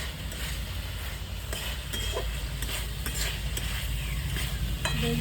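Eggplant frying in fish oil sizzles with a constant close crackle, broken by soft spatula scrapes and stirring ticks.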